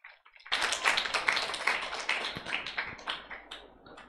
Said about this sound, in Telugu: అందరం గట్టిగా చప్పట్లు కొట్టి దేవునికి